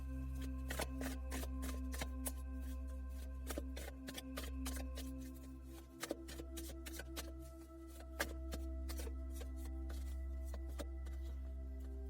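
Tarot cards being shuffled by hand, a long run of crisp, rapid card flicks and snaps close by, set against a steady low hum and no talking.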